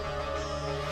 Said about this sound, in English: The H2S gas alarm sounds like this.